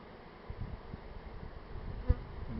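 A swarm of honey bees in April in Columbia, South Carolina, gives off a low, continuous buzzing hum with faint fluctuations. One brief thump stands out near the end.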